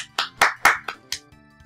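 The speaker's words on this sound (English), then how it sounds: "I want golf claps" Polite golf claps, five or six sparse, separate claps at an unhurried pace, close and crisp, trailing off into quiet.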